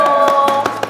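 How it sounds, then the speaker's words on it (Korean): A few quick, sharp claps in an uneven rhythm over a steady tonal background hum, close by and fairly loud. "이사님을 박수로 모십니다."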